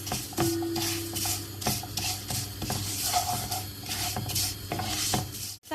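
Thin vermicelli being toasted in a pan for rice pilaf, with a spoon scraping and clicking through the noodles in repeated stirring strokes over a faint continuous sizzle, close and steady.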